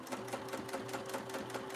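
A sewing machine runs steadily along a seam with a fast, even mechanical chatter and a faint motor hum, close and continuous.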